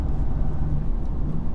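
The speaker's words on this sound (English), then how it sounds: "You can hear that intake." BMW M2 Competition engine with a loud, deep intake roar under load from inside the car, a continuous low rumble for a moment with no talk.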